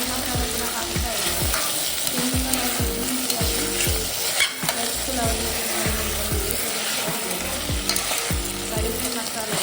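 Vegetable pulao ingredients stirred in a hot pan, a steady sizzle of frying with a regular scraping rhythm of the spoon repeating about once a second, loud and close throughout.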